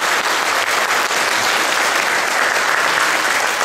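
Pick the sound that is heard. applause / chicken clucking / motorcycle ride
applause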